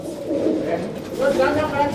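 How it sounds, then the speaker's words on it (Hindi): Desi pigeons, a flock of fighting birds kept in a loft, coo in a steady low murmur with a voice talking over them throughout. "ये देसी कबूतर है"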